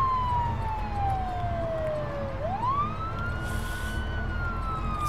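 A police car siren wails in the video game Project Zomboid, its pitch sliding down steadily, then sweeping back up and holding, loud and continuous over low background rumble.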